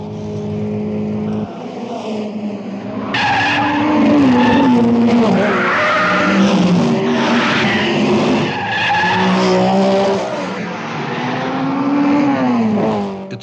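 1962 Monaco Grand Prix race cars skid and scream past on the Monte Carlo street circuit, loud tire squeals and wailing engines rising and falling in overlapping waves as several cars pass close by.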